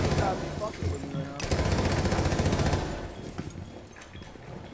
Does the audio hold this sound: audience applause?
no